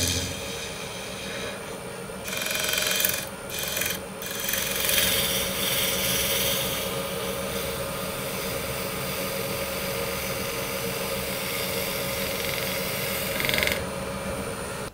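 A wood lathe turns a bowling pin lamp part, giving a steady motor hum with a scraping cutting tone that swells and breaks off in short gaps as the tool touches the wood, with no voices.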